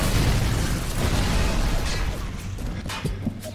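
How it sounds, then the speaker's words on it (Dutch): Explosions in the video game BioShock give a dense, loud rumbling burst at the start that fades into a lingering low roar with a few smaller pops. "Explosies overal."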